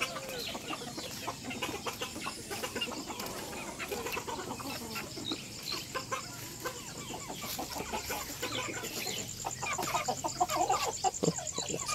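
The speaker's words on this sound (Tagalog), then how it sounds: "Tingnan natin yung mga ibang manok dito." Chickens on a rural farm cluck and chatter continuously at close range, with many short, overlapping calls forming a busy, steady backdrop on an overcast day.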